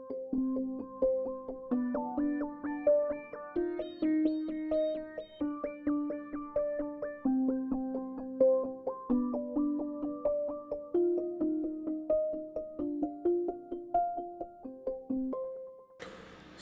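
Two synth arpeggios play together, one bouncy and one wavy, layering rapid plucky notes in steady repeating patterns at a fairly loud, even level, with no voices over them.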